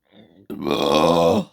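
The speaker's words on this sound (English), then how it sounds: "I didn't mean to burp then" A single drawn-out burp, close and loud, from a person reviewing a Lego Indiana Jones set, following a brief low vocal sound.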